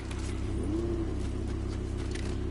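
Car driving in the video game Fortnite, a steady low engine drone that holds even throughout, with a brief higher tonal sweep near the start and no voices.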